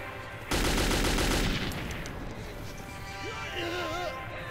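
An AK rifle in the video game Metro 2033 opens up in a sudden, loud burst of rapid automatic fire that lasts about a second and then rings off into a fading echo as game sounds trail on.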